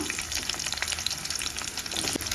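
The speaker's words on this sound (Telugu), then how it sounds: "ఆవాలు జీలకర్ర అయితే వేగినాయి ఇప్పుడు ఆనియన్స్ అయితే వేసుకుందాము" Mustard seeds and cumin frying in hot oil, a dense continuous crackle and sizzle with small pops, close and alone without talk.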